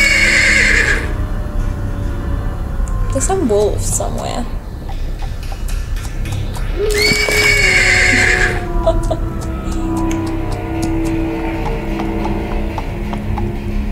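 In the Edgar A. Poe Oval Portrait gamebook video game, a horse whinnies loudly twice, with hoof clops and ticking in between, over steady game ambience while someone talks over it.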